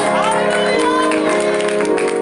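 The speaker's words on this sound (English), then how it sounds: "Come on, clap your hands and give God praise." A church congregation claps along during a worship service, the hand claps dense and steady beneath loud music and singing voices that fill the space.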